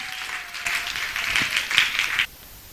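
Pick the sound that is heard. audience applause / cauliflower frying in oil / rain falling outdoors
audience applause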